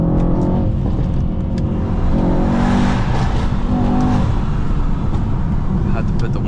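A Mercedes E63S with all-wheel drive accelerates hard, its engine droning loudly and steadily from inside the cabin, with rising and falling rev tones and a few clicks.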